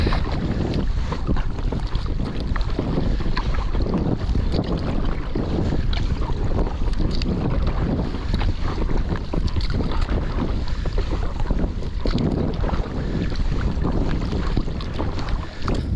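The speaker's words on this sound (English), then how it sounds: "get on with some nice paddling" Inflatable kayak being paddled on open water, steady wash of water and paddle strokes under constant gusting wind buffeting the microphone, loud and close throughout with no talking.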